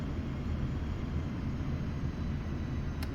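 Sukhoi Su-25 jet engine droning in a flight simulator game on landing approach with gear extended, a steady low broadband roar with no breaks, constant and fairly loud throughout.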